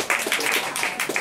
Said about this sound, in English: A little bit of applause, please.